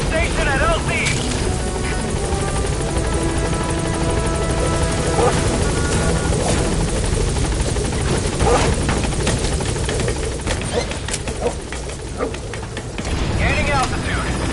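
A B-Quad helicopter arrives at a landing zone in Metal Gear Solid V: The Phantom Pain. Its loud, steady rotor roar fills the scene, with scattered gunfire-like bursts and a radio voice speaking over it.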